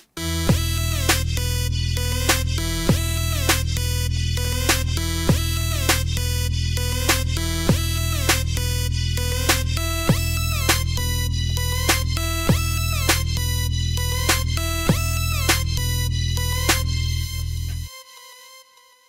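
A code-generated electronic dance drop with a heavy sustained bass and sharp repeating synth stabs hitting in a steady, driving rhythm, then fading out.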